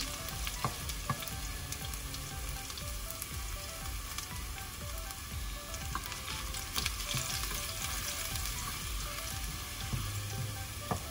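Garlic sautés in hot oil for chicken afritada, producing a dense, even sizzle and crackle that stays level throughout without any talking.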